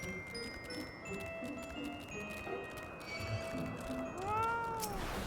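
Cat meowing in the video game Final Fantasy XIV, a few rising-falling meows near the end over busy game music and ambient effects, moderately loud.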